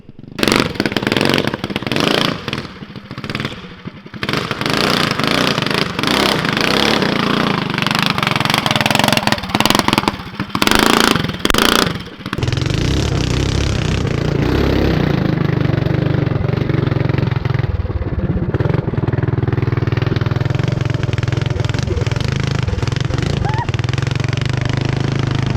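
A 30 hp 440cc Duromax engine on a small go-kart runs loud and close, revving hard in bursts with choppy gaps through the first half, then settling into a steady, throaty idle.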